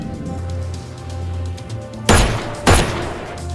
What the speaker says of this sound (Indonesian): Ahau tetap menembak mati Hunter.